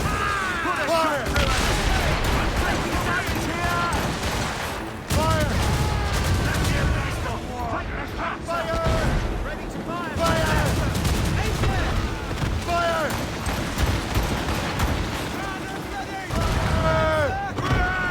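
Ship cannons fire broadside volleys during a naval battle in Assassin's Creed Rogue, repeated booming blasts over rushing water and creaking hull, with crew shouting orders between salvos.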